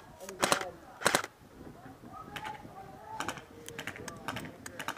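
Airsoft guns fire during an outdoor walk-on trailer match: sharp, cracking single shots, a pair close together near the start and more scattered bursts later, heard over faint background movement.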